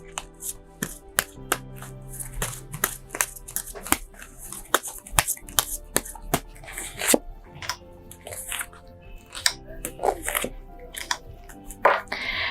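Tarot cards being shuffled and drawn for a weekly horoscope reading, with repeated crisp riffling flicks and soft slaps of card stock sounding close and clear, without any voices.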